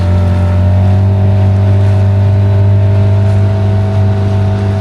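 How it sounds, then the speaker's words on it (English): A small ferry motoring along the River Dart in early March, heard as a steady low engine drone with a constant hum and faint water wash, loud and unbroken. "Yeah, it is a little ferry. He's zipping along."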